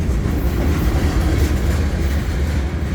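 A CN freight train rolls past close by in Lapeer, Michigan, a loud steady low rumble with rail clatter holding level for the full three seconds.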